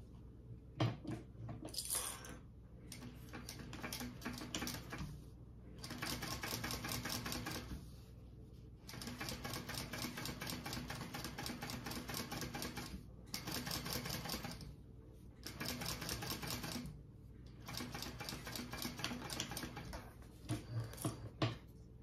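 A sewing machine top-stitches fabric for a crossbody bag in quick rattling bursts of rapid needle strokes, each run lasting a couple of seconds and separated by short pauses, close and clear with no talking.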